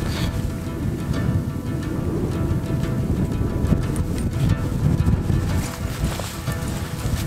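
Strong wind buffeting at a fell lake campsite in Swedish wilderness, a rough, gusting low roar with rising and falling blasts across the microphone, continuous throughout without talk.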